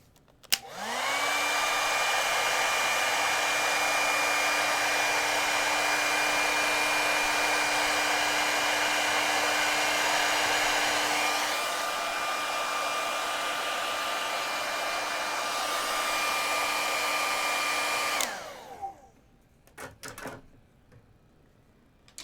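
A hair dryer blasts steadily for about seventeen seconds while drying a watercolor rose painting, a loud, even whine that shifts slightly partway through before it clicks off, followed by a few faint knocks.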